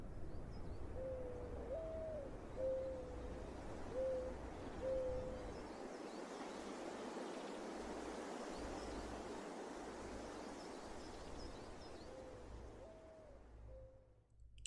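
Bird call at the end of a song, a soft repeated hooting figure that returns several times over a steady hiss-like wash of background sound, faint and fairly distant.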